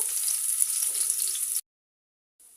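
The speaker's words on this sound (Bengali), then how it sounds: "পেঁয়াজটা হালকা একটু ভেজে নিব" Chopped onions sizzle in hot oil in a pan for a Bengali spinach bhorta, a steady close hiss that cuts off abruptly into silence, then faintly resumes.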